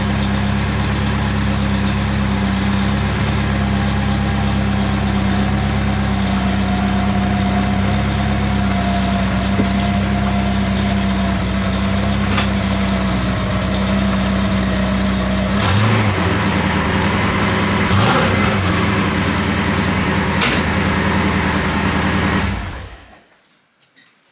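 A Porsche 928 engine idles steadily through a new exhaust with the pipe exiting at the rear, a deep, low exhaust rumble, a few brief clicks and bumps near the end before it cuts off.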